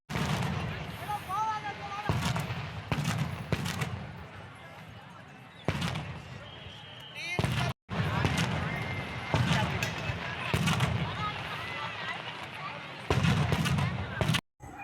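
Firecrackers burst in a rapid, irregular string of loud sharp bangs at a Murugan temple wedding festival after Kanda Sashti, with a crowd's noise and voices continuing underneath.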